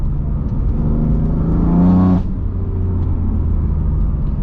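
A BMW M4 engine idling with a steady low rumble, then revving briefly to a rising roar before dropping back to idle.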